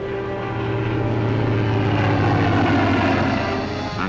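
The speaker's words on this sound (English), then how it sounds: "planes of the Fleet Air Arm and Coastal Command patrol the skies and search the seas" Second World War Fleet Air Arm propeller planes fly over a naval convoy at sea, giving a loud, steady engine drone with a constant low hum that holds throughout, with no voices.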